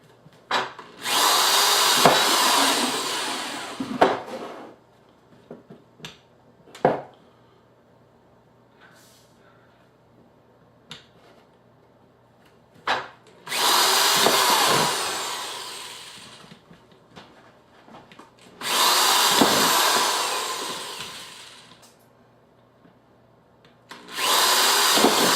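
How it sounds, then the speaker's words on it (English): A power drill bores holes in a 5-gallon plastic bucket for a chicken watering system, four separate bursts of high whining and grinding a few seconds each, separated by quiet handling clicks and knocks. "So got my drill."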